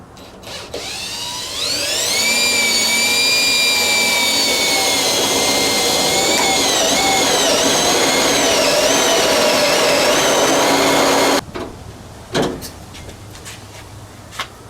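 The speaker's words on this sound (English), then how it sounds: "shows me exactly where to drill my new holes" A power drill bores new holes through a steel hood on a C10 work truck: loud, sustained high-pitched whine with shifting pitch lasting about ten seconds, then stopping abruptly, followed by a few brief clanks.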